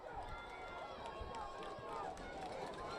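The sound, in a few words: football crowd cheering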